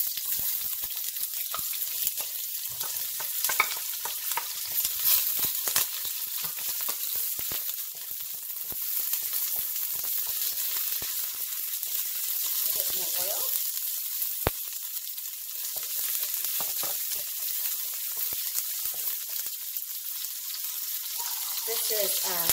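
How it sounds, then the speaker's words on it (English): Garlic, ginger, lemongrass and kaffir lime leaves frying in about two tablespoons of hot oil in a pan for Thai curry, a steady close sizzle throughout with occasional stirring clatter. "I'm gonna heat up my pan here, about 2 tablespoons oil. Got here some garlic, ginger, lemongrass,"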